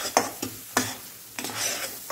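A spoon stirs mango pulp in a ghee-greased nonstick pan over low heat for mango ladoo, giving a few quiet scraping strokes with a faint sizzle between them.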